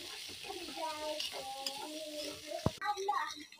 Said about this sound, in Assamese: পিঁয়াজখিনি ভালকৈ ভাজি যোৱালৈকে